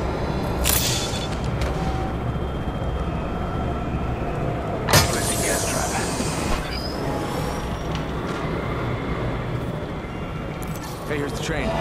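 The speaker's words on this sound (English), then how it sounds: "Hey, here's the train." A train in Apex Legends rolls past with a continuous heavy rumble, metallic wheel squeals and occasional clanks, fairly loud and steady while voices talk over it.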